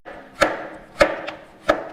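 Cucumber slices and mint leaves with simple syrup get muddled for a Kentucky mint julep, three sharp, evenly spaced thuds about half a second apart, each with a short woody knock.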